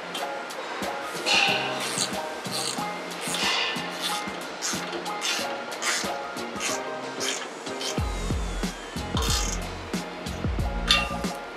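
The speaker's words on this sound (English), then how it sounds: "with an 11mm socket, we can tighten them down" A ratchet and 11mm socket tighten exhaust tip clamps on a Honda FL5 Civic Type R catback, giving rapid clicking bursts and metallic clinks up close, with a low rumble in the last few seconds.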